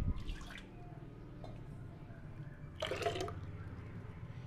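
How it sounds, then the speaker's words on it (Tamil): Thin, watery ground urad dal batter is poured into a cooking vessel, giving two brief sloshing, splashing pours close by against a quiet room with a low background hum. "இப்போ ஒரு பாத்திரத்தில் நம்ம தண்ணியாக அரைச்சி வச்சுருக்கிற இந்த உளுந்தை நம்ம சேர்த்துடலாம்."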